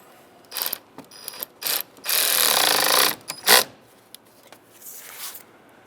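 A ratchet clicks in short bursts and one longer steady run while tightening a battery terminal on a 2007-2015 Mazda CX-9, close and crisp with brief pauses between strokes.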